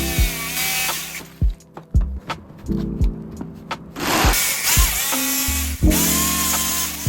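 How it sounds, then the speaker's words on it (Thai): Rapid rasping strokes of a hand saw cutting wood along a pencil line for a kitchen dish shelf, starting and stopping in bursts, close by, with some clatter in between. "ร่างแบบไว้ที่ไม้แล้วก็ไปตัดตามรอยดินสอได้เลย"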